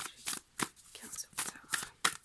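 Tarot cards are shuffled and drawn by hand, giving a quick series of short riffling and flicking bursts, close and soft, with faint murmured speech between them.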